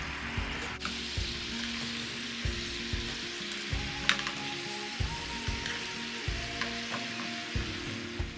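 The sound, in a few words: bok choy frying in a pan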